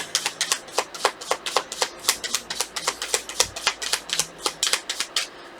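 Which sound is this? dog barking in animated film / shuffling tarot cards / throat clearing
shuffling tarot cards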